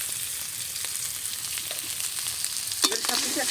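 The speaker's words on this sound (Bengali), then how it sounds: "মশলাটা দিয়ে কাঁকড়ার সাথে বেশ সুন্দর করে কষে নিয়েছি।" Crab with chilli powder, dried chillies and coriander powder fries in a pan, giving a steady soft sizzle with scattered scraping stir sounds and one sharper clack near the end.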